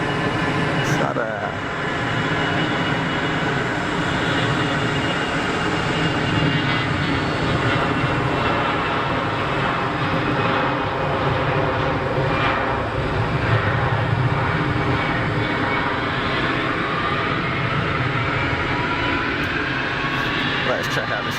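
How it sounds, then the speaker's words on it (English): An EasyJet jet airliner on its takeoff roll gives off a continuous, loud, roaring engine rumble with steady jet whine, and people talk over it. "Let's catch this EasyJet on the roll."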